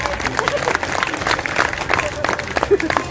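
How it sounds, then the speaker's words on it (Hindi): Audience applause at a Hindi comedy poetry recital during a Dussehra fair in Bachhrawan, a steady clatter of many hands filling the whole moment at close range. "ताली बजाइए।"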